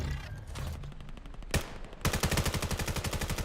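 AK rifle fire in a competitive shooter video game: scattered shots and a sharp crack, then a fast, steady automatic burst close and loud at the end, no voices.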